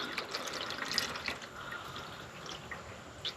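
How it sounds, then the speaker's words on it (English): Engine oil drains from a Jeep Gladiator in a continuous liquid trickle, with scattered drips and light splashes close by. "just let your oil drain"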